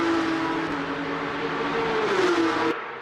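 Porsche 992 GT3 race cars circling the Portimao circuit, a loud sustained engine roar whose pitch drifts down as a car passes by, ending abruptly as the sound cuts off.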